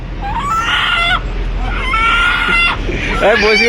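A rooster at a poultry shop in Saudi Arabia crows and clucks loudly close by in several bursts, with people talking over and between the calls.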